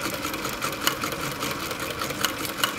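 AtlasUSA AT2284 sewing machine runs steadily while sewing a 3-step zigzag stitch, a close mechanical whir with a few brief clicks as the needle cycles.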